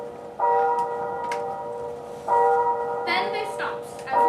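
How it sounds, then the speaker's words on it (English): Bells in a house ring out in loud, resonant strikes, about three clangs spaced across the span, each ringing on with a sustained tone before the next, with sharper metallic hits layered near the end. "It swung so softly at first that it scarcely made a sound, but soon it rang loudly,"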